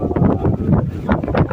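Strong wind gusts at sea off Malaysia buffet the microphone in a loud, uneven low rumble that rises and falls throughout, with no voices.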